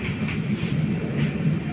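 The Amrit Bharat Express rolls along its rails on the inaugural Malda Town service, a steady rumbling train ride with faint rhythmic clatter heard from inside the coach, moderately quiet and without talk.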